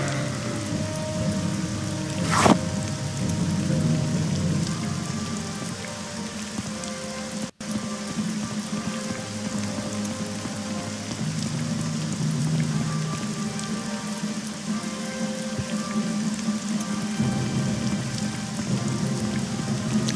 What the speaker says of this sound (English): Is it always just raining in the Grazelands, or did we just get bad luck with the weather?